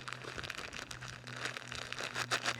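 Faint, close crinkling and rustling of a plastic bag being handled and squeezed to break up lumps, irregular soft crackles throughout.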